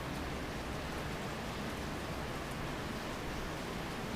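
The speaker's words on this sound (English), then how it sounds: "Not raining insanely hard, but it's raining pretty good." Steady, moderately heavy rain falls during a tornado watch, a dense even hiss with no breaks, no voices and no other distinct sounds.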